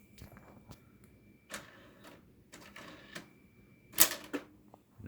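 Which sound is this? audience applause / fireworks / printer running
printer running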